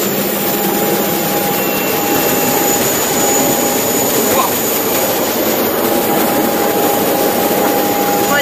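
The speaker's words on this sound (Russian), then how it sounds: "Вот он наш самолет. Мы заходим на посадку." A passenger jet coming in to land gives a loud, continuous roar of engine noise with a steady high whine, close and unbroken throughout, with no voices audible over it.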